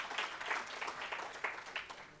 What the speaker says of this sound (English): Let's try another round of applause.